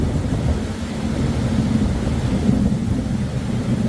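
A deep rumble of thunder from a lightning storm rolls on continuously, a low, heavy roar with rain-like hiss, fairly loud and without speech.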